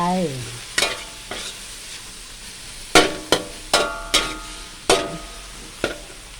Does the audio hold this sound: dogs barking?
no